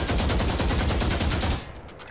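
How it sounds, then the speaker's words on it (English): Sustained automatic gunfire from a full magazine emptied at a target in Valorant, a rapid, even stream of loud shots lasting about a second and a half before cutting off, with no talking. "Focus your aim, then fire a full magazine into the target."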